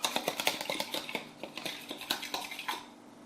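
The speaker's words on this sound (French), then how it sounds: "je vais battre mon œuf" An egg seasoned with salt and pepper is whisked in a bowl, giving quick, regular metallic clinks of cutlery against the dish, close and steady with no speech.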